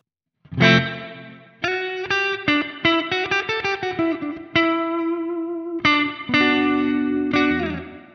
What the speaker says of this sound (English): this is a simple spring reverb